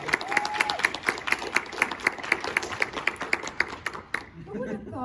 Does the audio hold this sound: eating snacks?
no